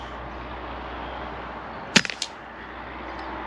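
Daystate Delta Wolf PCP air rifle fires a single sharp crack over a steady background hum, followed by a couple of quick smaller clicks and snaps.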